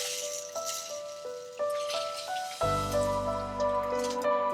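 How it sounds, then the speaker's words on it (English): Rice pouring into a pot of boiled water, giving a run of soft drips and patters followed by a fuller liquid splash and ongoing bubbling, close and moderately quiet. "We will then add the rice to the boiled water"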